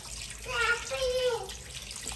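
Water splashes and trickles into a pan of fish with turmeric and salt for about a second amid kitchen background noise, with a voice faintly present.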